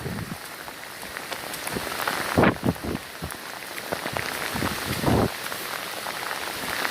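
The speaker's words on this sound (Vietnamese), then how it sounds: "Hôm nay là trời mưa." Rain falls steadily outdoors during the wet, flooding season, a constant hiss of drops on surfaces, with a couple of louder splashing or thudding bursts mixed in, and no talking.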